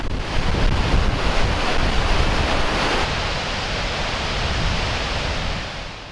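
Water released through a gate at the Seven Oaks Dam during a flow test, a loud, continuous broadband roar of rushing water that holds steady throughout with no voices.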